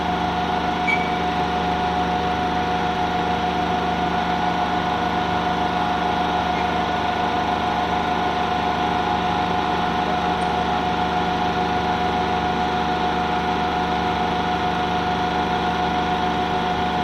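A DC shunt generator runs at a steady rated speed of about 1500 RPM, giving a constant loud mechanical hum and whine with a fixed pitch and no change across the whole stretch.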